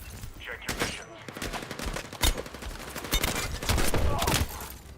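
Video game gunfire in Battlefield 6, a run of sharp, dense shots and bursts close up, with brief talk mixed under the shooting.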